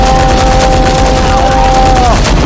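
Rapid bursts of video game gunfire crackle loudly and continuously, dense repeated shots filling the moment, with a steady tone running underneath.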